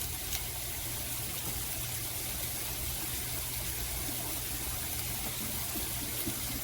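Tap water runs steadily while hands are washed, a constant broad wash of flowing water at low level with no talk over it.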